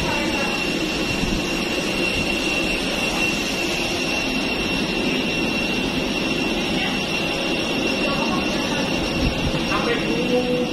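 Cabin of a Citilink Airbus A320-200 with engines running, a steady loud whine and rumble with a constant high tone, unbroken throughout while a person talks over it.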